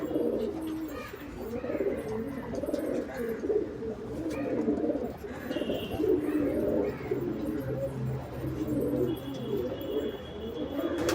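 Andhra and Madras pigeons coo repeatedly in a loft, soft throaty rolling calls overlapping close by, with occasional faint chirps and background murmur.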